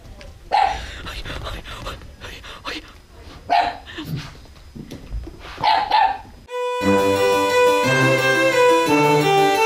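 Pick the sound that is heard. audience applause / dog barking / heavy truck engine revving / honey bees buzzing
dog barking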